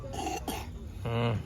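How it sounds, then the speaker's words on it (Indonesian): A few sharp coughs in quick succession, close and fairly loud, with a short pause before a longer, harsher throat-clearing cough. "Batuk."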